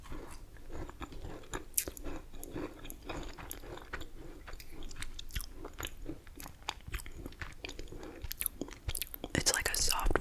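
Close-up crunchy bites and soft, moist chewing of black velvet macarons in a whispered ASMR setting, with irregular crisp snaps and mouth sounds growing busier toward the end and quiet whispering between them.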